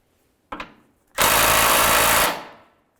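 A power tool loosens an 18mm bolt on a Dodge Journey during timing belt work, giving a short tap and then one loud, harsh burst of about a second that trails off quickly, with no talking.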